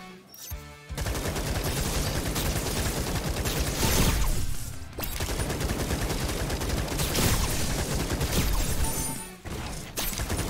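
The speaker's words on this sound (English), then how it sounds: "Changes my weapon to work like a minigun." A minigun-style weapon in Atomic Picnic fires in a dense, continuous rattle for most of the stretch. Short gaps break the stream near the start, around the middle and near the end, with explosive crashes mixed into the loud, sustained fire.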